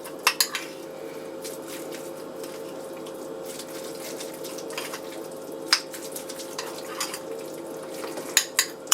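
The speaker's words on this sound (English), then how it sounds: "So, give that a good stir." Tuna and mayo stirred in a bowl with a utensil, soft scraping and scattered sharp clinks against the dish, with a faint steady background hum and no talking.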